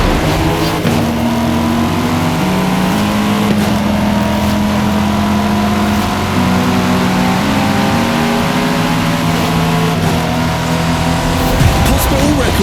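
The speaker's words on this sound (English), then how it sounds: "Fast cars." Race cars in the Forza Horizon video game roar continuously during a head-to-head race, with engine tones rising and shifting and tires squealing, loud and dense under a drum and bass music track.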